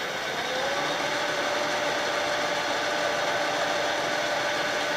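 A sewer drain cleaning machine is cranked and runs with a steady, broad motorized whir and hum, close and fairly loud, holding constant throughout without pauses.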